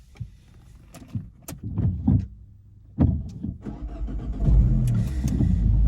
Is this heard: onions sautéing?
no